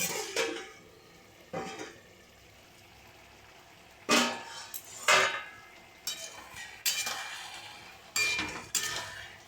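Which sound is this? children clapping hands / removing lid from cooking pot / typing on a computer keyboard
removing lid from cooking pot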